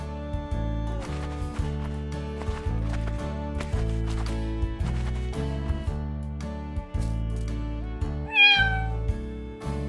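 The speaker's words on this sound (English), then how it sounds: "Cat." A cartoon cat gives a single rising meow near the end, loud and close, over a steady musical backing track in a children's animal alphabet song.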